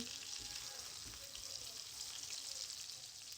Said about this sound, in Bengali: পেঁয়াজটা আমি এই পাশে দিয়ে একটু ভেজে নিচ্ছি।